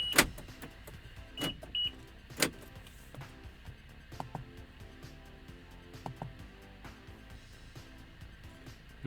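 Several sharp clicks and short electronic chirps from a Lexus GX470's door locks locking and unlocking, spaced out over quiet background, with a brief whirring mechanism early on.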